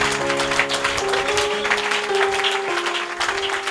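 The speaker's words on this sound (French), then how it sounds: "Donne-lui des mains d'acclamation." A church congregation claps in a dense, continuous wave of applause, with sustained organ or keyboard tones held underneath and no clear speech over it.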